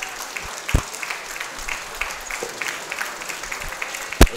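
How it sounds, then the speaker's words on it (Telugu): Audience applause at a Nalgonda district committee swearing-in ceremony, a steady crackle of clapping from a seated-then-standing crowd with a few sharp louder claps punctuating it, fairly close and continuous throughout. "అందరూ చప్పట్లు కొట్టి"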